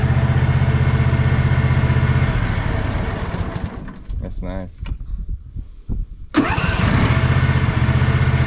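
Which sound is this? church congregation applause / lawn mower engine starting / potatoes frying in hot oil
lawn mower engine starting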